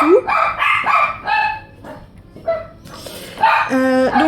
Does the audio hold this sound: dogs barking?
yes